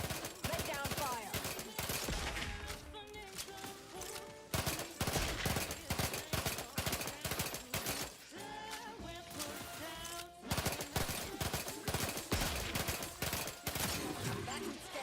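Sustained video-game gunfire from Outer Worlds 2 rattles in loud, rapid volleys with short pauses, and voices are heard between the bursts.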